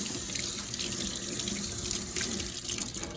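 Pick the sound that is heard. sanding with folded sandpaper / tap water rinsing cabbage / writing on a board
tap water rinsing cabbage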